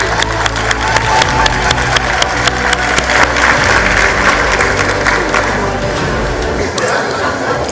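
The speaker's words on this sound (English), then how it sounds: "A round of applause for KwaZulu Natal." An audience at a school awards event in KwaZulu Natal bursts into sustained applause, dense clapping with scattered cheers and crowd chatter throughout, loud and close.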